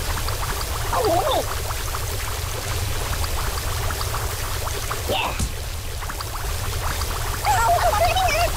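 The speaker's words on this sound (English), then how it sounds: "Oh, water everywhere!" Water pours steadily in the Kick the Buddy video game, a continuous loud rushing splash throughout, with brief voice-like chirps and squeaks over it.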